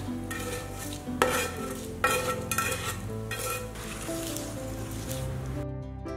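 Lemon rice is stirred with salt in a pot or bowl: a few bursts of scraping and clinking, fairly close and quiet, with no talking.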